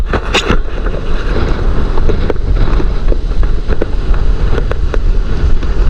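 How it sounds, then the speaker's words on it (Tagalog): A small fishing boat (bangka) motors across water out to a fish trap, its low engine rumble steady and loud under heavy wind buffeting on the microphone, with splashes and sharp knocks scattered throughout. "Mayroon po tayong bangka na sumundo sa atin."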